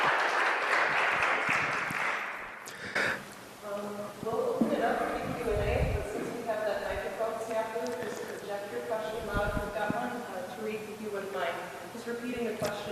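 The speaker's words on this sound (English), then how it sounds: "let's give them a round of applause" An audience at an author conversation event gives a burst of clapping that fades after a few seconds, followed by background music and people talking.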